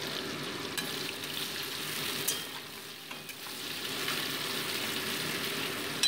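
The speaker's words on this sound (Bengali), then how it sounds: "আর তারপরে অ্যাড করে দিচ্ছি আমি কুচিয়ে রাখা পেঁয়াজগুলোকে মোটামুটি 2 মিনিট আমি ভেজে নিচ্ছি" Chopped onions and whole cumin sizzle in hot mustard oil in a wok for a chicken curry, giving a close, steady crackling fry with faint stirring scrapes and no talking.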